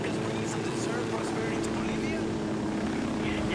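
Helicopter landing on a road in Ghost Recon Wildlands: a loud, continuous rotor and engine drone, with a voice talking over it.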